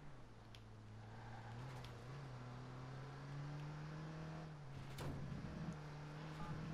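A car in the video game Watch Dogs pulls away with a steady, loud engine drone that rises gradually in pitch as it accelerates, with a few brief clanks and a crash-like burst midway.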